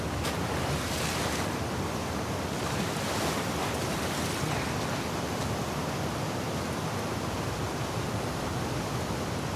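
Water waves and current in The Last of Us Part II surge as a dense, continuous roar of surf with wind-like hiss, steady and enveloping throughout, no voices.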